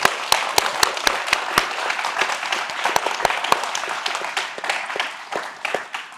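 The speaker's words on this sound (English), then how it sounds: "Please join me in giving a big round of applause to our panelists." An audience claps for a panel at an education event on AI ethics, a steady round of applause with distinct sharp claps standing out, fairly close and easing off toward the end.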